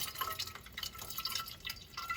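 Water drains from the radiator of a Fiat 500 1.2 during a radiator service, an irregular dripping and splashing trickle that stays faint and steady throughout, with no voices.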